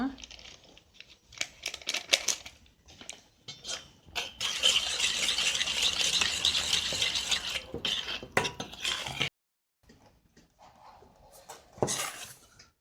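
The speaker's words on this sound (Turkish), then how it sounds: "unumu azar azar ekleyerek yumuşak kıvamlı bir hamur elde ediyorum" Flour is worked into a soft dough with a spoon in a bowl, first as scattered clinks and taps, then as a long, steady scraping and crinkling mix. A short quiet gap follows, then a final burst of scraping.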